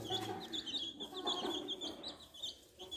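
High, rapid peeping of young chicks chirps repeatedly over a soft background, with a few lower clucks mixed in nearby.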